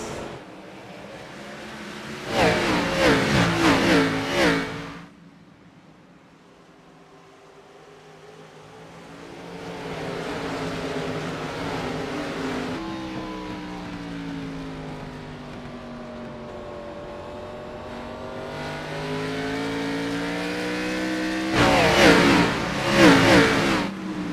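Race car engines in an iRacing sim race, the 2024 All-Star Race, loud revving bursts at the start and end with a rising, swelling roar between as cars pass by.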